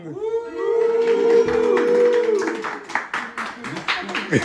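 Clapping welcomes Sohane to the villa on a reality show. A sustained voice-like howl or cheer comes first, then a dense burst of steady clapping builds and carries on to the end.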